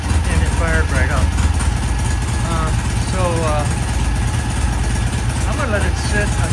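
Norton motorcycle engine running just after being kick-started with choke on, a steady near idle rumble with someone talking over it.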